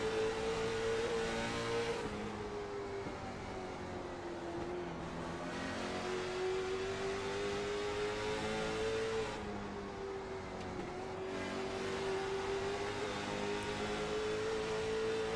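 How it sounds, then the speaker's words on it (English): Late model stock cars racing at a Concord short track in the ASRL Chestnut Hill series, with a steady loud engine drone rising and falling through the corners and another car's engine close behind, continuous with no talking. "Brandon Elvis right there in the 54 machine, all over the back bumper"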